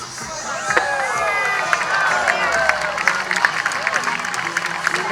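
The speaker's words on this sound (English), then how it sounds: "Big round of applause" Crowd at a water-ski show applauding and cheering a double front flip jump, loud clapping and shouts with whistles and voices woven through, steady then crackling with sharper claps toward the end.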